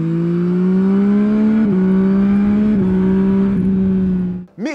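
Yamaha CP3 120-horsepower inline three-cylinder engine in a touring-oriented MT-09-based motorcycle revving hard, loud and close, the pitch holding high with brief dips between gear changes before cutting off sharply at the end.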